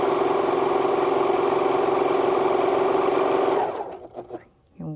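A sewing machine stitches fabric with a steady, loud, even whir for several seconds, then stops; a voice follows briefly.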